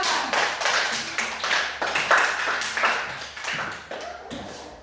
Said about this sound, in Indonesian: Ya, tepuk tangan kepada kelompok 2.